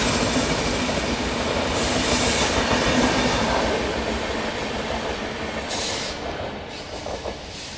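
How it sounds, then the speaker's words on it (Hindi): A Bhagalpur Garib Rath Express from Anand Vihar overtakes on the adjacent track, heard from a passing train: a loud continuous rumble of wheels on rail with clattering and brief high squeals, slowly easing. "आनंद विहार से भागलपुर गरीब रथ एक्सप्रेस ओवरटेक दे रही है अभी हमको"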